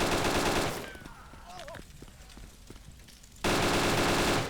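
Gunfire in DayZ erupts as loud sustained bursts at the start and end, framing a quieter stretch where players talk over faint distant shots.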